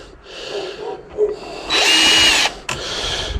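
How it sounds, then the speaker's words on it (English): Slow single-speed power drill unscrewing fasteners while scrapping a huge TV for gold recovery: short bursts of whirring motor, a louder sustained whine in the middle, then another brief run, close by with small clicks between. "The thing I don't like about this drill is it doesn't have 2-speed. It's a slow drill."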